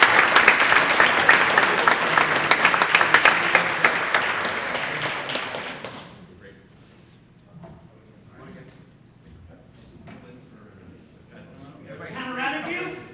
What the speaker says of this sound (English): How about another round of applause for them,